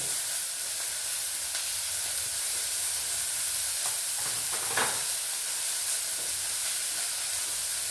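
Food sizzles steadily in a hot pan, a continuous close hiss of frying that carries through the whole stretch, with a brief bright crackle partway through.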